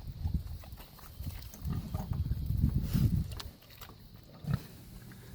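Pigs in their pen at a water setup give low grunts and snorts, swelling into a busier cluster of grunting midway, then a single louder snort near the end.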